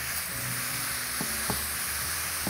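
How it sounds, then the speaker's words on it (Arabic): Zucchini simmering in sauce in a pan gives a steady close sizzle, with a few soft clicks and scrapes as a spoon stirs the vegetables through. "نقلب الكوسة كويس"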